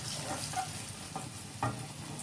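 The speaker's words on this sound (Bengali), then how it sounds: "প্রায় 4-5 মিনিট পর উচ্ছেটা ভাজা হয়ে গেছে, এবার আমি উচ্ছেগুলোকে একে একে নামিয়ে নেব।" Bitter gourd slices fry in hot oil in a village kitchen, giving a steady, close sizzling hiss throughout, with a few brief louder crackles and spatters.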